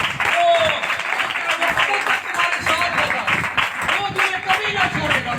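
Church congregation clapping loudly and rhythmically during a worship service, a steady beat of hands under and alongside voices singing or calling out throughout.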